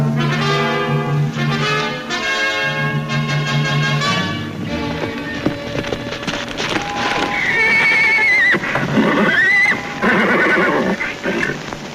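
A horse neighs loudly with long, shrill whinnies, then hooves clip-clop close by under a rising music score.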